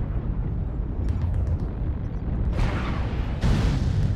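A destroyed mech explodes in MechWarrior Online, a deep rumbling eruption over constant low engine drone, with two heavier bursts swelling near the end, loud and close.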